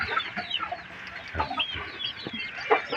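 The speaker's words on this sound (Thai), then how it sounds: "เป็นไก่ขาสั้นนะครับ" Short-legged bantam chickens cluck on a farm in the evening, with many scattered soft clucks and calls overlapping at a moderate distance.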